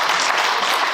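Loud, dense audience clapping fills a brief moment at a Paris magazine launch, even and sustained without pause.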